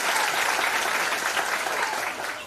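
Loud, dense applause from a large crowd of women at a Paithani game show event, steady throughout and tapering slightly at the end.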